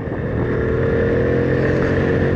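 A C90 small motorcycle engine idles steadily close by, a buzzing low rumble with no voices.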